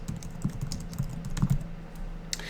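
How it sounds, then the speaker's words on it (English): Fingers tap a computer keyboard in quick, uneven bursts of crisp clicks, close and fairly loud against a quiet room, with no speech. "I'm going to use the escape key on my keyboard."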